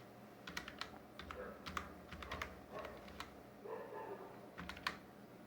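A username being typed on a computer keyboard while setting up a Facebook business page, with irregular bursts of soft key taps and short pauses over a low room hum, quiet and close, without any voice.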